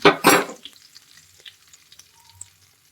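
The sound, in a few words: frying with asafoetida in a pan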